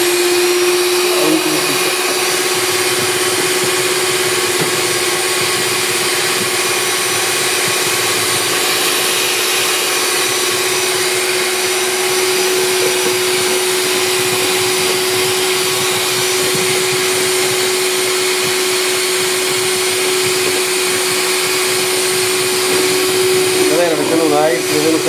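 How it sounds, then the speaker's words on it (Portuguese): A steady, loud electric stand mixer beating three eggs whirs continuously for the whole stretch, with a constant hum and buzzing texture, and brief voices near the start and end. "que sucesso esse ovo batido na batedeira"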